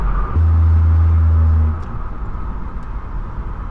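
A Pontiac G6 with a muffler-delete exhaust makes a loud, deep drone for about a second and a half, then drops back to a quieter idle rumble.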